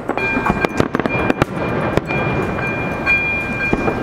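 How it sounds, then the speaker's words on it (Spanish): Fireworks bursting in the night sky over Prague, a dense run of sharp cracks and pops at varying distances over a continuous rumbling background. "nunca vi tantos cohetes en el cielo"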